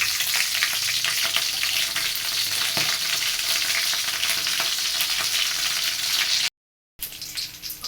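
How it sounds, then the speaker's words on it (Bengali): Chili and cumin sizzling loudly in hot mustard oil, a dense continuous crackle with scattered pops, broken by a brief silence before resuming. "সরিষার তেল দিয়ে দিছি এখন এতে দিয়ে দিব মরিচ আর জিরে"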